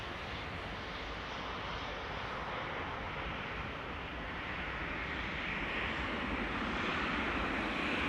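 An Airbus A340-600 airliner departing Amsterdam Schiphol gives a steady, distant broadband engine roar that slowly swells louder over several seconds, with no voices.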